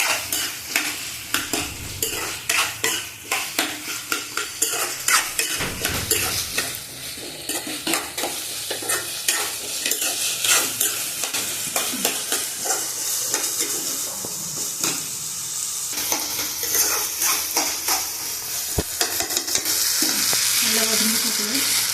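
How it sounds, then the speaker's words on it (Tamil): Two potatoes sizzle and sauté in a pan for a potato kara kolambu curry, with steady frying hiss broken by repeated stirring, spoon scrapes and clinks against the pan. No one speaks. "இப்போ நல்லா ஃப்ரை ஆகணும். நல்லா வதங்கணும்."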